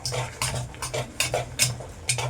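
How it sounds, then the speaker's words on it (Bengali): A spoon stirs cake batter in a bowl, with quick rhythmic scraping strokes and light clinks against the side, roughly eight passes, close and clear with no talking. "এটার মধ্যে মিশিয়ে নিলাম"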